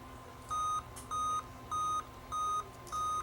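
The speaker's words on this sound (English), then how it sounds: "It says resuming Windows is beeping." A laptop running on a 90 watt adapter beeps while resuming Windows during a failed boot, giving five evenly spaced, steady electronic tones over a faint background hum, with no one speaking.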